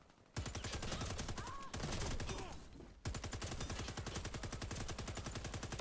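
Rapid automatic hip-fire from a gun in an online shooter rattles in sustained, evenly spaced bursts, loud and close, with a brief break between strings of shots.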